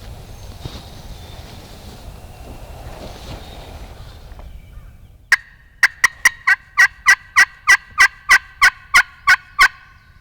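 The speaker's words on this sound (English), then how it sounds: "We've already heard 3 or 4 different birds gobbling." A wild turkey gobbles repeatedly in a rapid rhythmic burst of a dozen loud calls, following several seconds of wind and a faint earlier gobble in the distance, on Mississippi public land.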